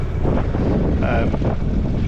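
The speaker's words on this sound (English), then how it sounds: "I'm just running the engine on idle" Westerly Centaur sailboat's engine idling while under way, a low steady rumble heard close up and mixed with strong wind buffeting on the microphone.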